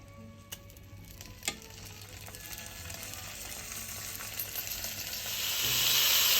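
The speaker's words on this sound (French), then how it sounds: "Et je les laisse griller environ 40 secondes de chaque côté." Beef and cheese yakitori skewers grilling in a very hot pan, a quiet sizzle with a few sharp clicks early on that swells into a louder hiss toward the end, with no talking.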